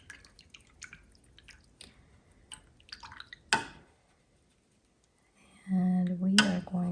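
Watercolor paintbrush swished and rinsed in a water cup, a few soft drips and splashes up close, followed by a louder sustained swirl near the end; quiet and alone, with no talk.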